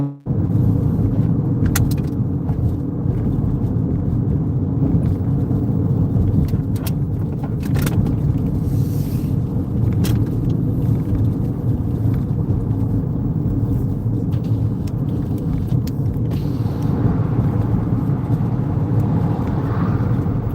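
A car drives steadily through red-light traffic, its engine and road noise forming a continuous loud, close rumble with occasional faint clicks and rattles, and no talking.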